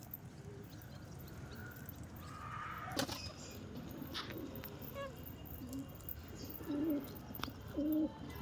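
Pigeons cooing as they are brought down from flight in the early evening, soft low coos near and far over a faint outdoor background, with an occasional sharper knock or flutter.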